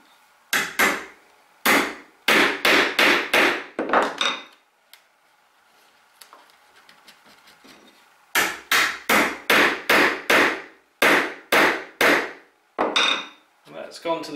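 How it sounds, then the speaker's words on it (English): Mallet blows on a chisel chopping a mortise in wood, loud and close: quick bursts of sharp knocks, a quiet pause with faint scraping and clicks, then more steady rounds of strikes. "We can chop away until that fits nicely in there."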